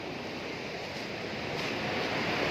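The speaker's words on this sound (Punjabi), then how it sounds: "ਇਧਰਲੇ ਬੰਨੇ ਸ਼ੋਰ ਆਉਂਦਾ ਜਿਹੜਾ ਉਹ ਹੈਗਾ ਅਲਕਨੰਦਾ ਦਰਿਆ ਦਾ" Steady broadband rushing of the Alaknanda river near a bridge on the route from Joshimath, a continuous roar that swells slightly louder toward the end, with no voices.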